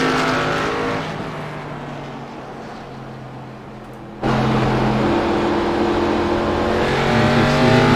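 ARCA Menards stock cars roar through a corner on a race restart at the World Series of Stock Car Racing, engines droning loudly, then jumping louder as the pack accelerates past and keeps revving.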